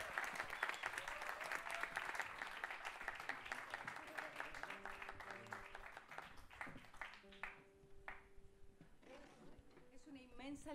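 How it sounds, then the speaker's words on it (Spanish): Audience applause at a live marimba concert in Sala SCD Egaña, with dense clapping that gradually thins out toward the end while a voice speaks over it. "González, Cristian Carvacho, fuerte el aplauso."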